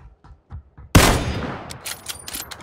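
Gunfire in the battle royale game PUBG: a few soft footstep-like thumps, then a single sharp loud shot that rings out and decays, followed by faint scattered distant shots.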